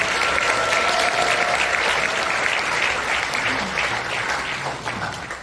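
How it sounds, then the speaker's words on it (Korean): Congregation at a thanksgiving prayer service in a National Assembly hall applauding warmly, a loud, dense burst of clapping that gradually thins and fades over several seconds. "다시 한번 뜨거운 감사의 박수 한번 드리겠습니다"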